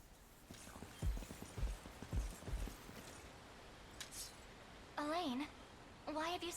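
Horses galloping in the video game Unicorn Overlord, a series of heavy hoof clops in quick bursts followed by voiced calls, over a soft background.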